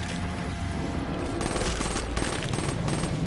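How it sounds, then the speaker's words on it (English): Rapid automatic gunfire in Call of Duty Zombies on the Gorod Krovi map: a dense, loud, unbroken stream of shots filling the whole moment with no pauses. "I just keep shooting."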